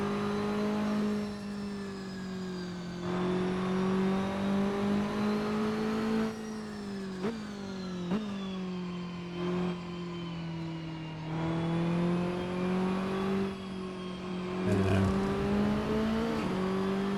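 A Saleen S1 GT4 engine in Assetto Corsa drones through repeated throttle swells and gear changes on a chicane circuit, a steady close-up in-car whine rising and falling without talk.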